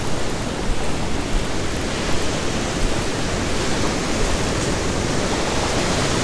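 Surf on a beach with gutters, waves breaking and washing ashore in a steady, loud, broadband roar with no clear pauses and no voices.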